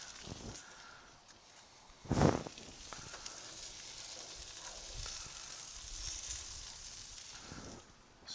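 Onions sizzle on a grill for burgers, a faint continuous hiss with one sharp louder burst of sizzle early on and soft scraping throughout.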